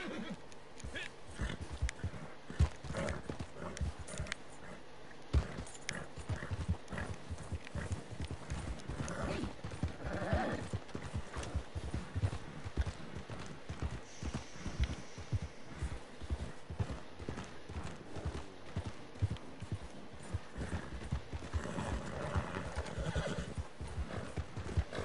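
Horse hooves clip-clopping steadily in the online western game Red Dead Online, with a whinny or neigh mixed in, continuous and fairly close throughout.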